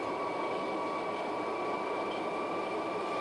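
A London Underground District Line train runs in the OpenBVE train simulator game. A steady, even rumble with a constant high whine carries through without a break, with no talk over it.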